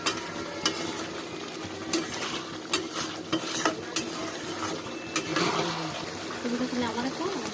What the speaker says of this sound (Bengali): মশলা দিয়ে কষানো হচ্ছে।